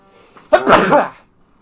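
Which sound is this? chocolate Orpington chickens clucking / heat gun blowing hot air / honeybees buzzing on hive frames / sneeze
sneeze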